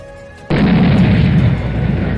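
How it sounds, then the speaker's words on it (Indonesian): A large bomb explosion erupts in a fantasy game battle amid a crowd of beastmen, a sudden loud blast that rolls into a sustained, dense rumbling roar. "sebuah ledakan yang sangat besar pun terjadi tepat di tengah-tengah kumpulan Beastmen tersebut"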